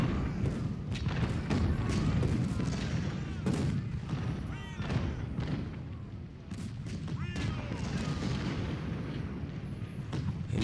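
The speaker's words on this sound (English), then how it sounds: "We're still waiting just for the artillery to soften the enemy up, of course." Cannon and artillery fire roar through a Civil War battle in Ultimate General: Civil War, dense repeated booms and crackling volleys rolling continuously, loud and close, with occasional voices beneath.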